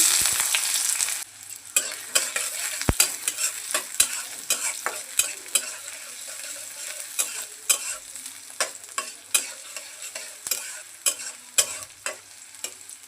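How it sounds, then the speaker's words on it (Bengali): Chopped onion frying in hot oil in a karahi, a steady sizzle broken by frequent sharp crackles and pops, loud and close with no voices. "তেল গরম হয়ে গেছে দিয়ে দিব পেঁয়াজ কুচি"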